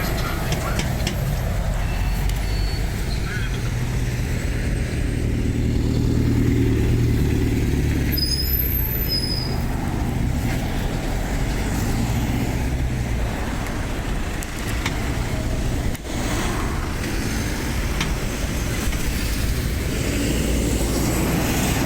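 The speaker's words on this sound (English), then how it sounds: "Got some pretty good trucks there that I missed." Heavy trucks passing at the Skeoch roundabout near Stirling, Scotland: a steady, loud low engine and road rumble that swells and fades continuously, with traffic noise throughout.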